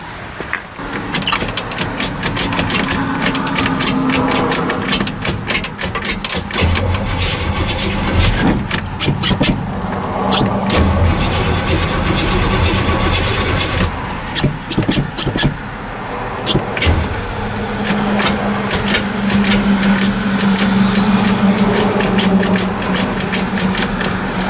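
Chevy El Camino with an HEI distributor and a Powermaster starter, cranking and turning over in repeated bursts, loud and close, with engine rumble throughout and a voice speaking at times.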